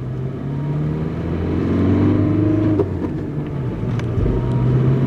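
A car engine hums steadily, then strains harder, its pitch climbing as it accelerates under load, close and fairly loud.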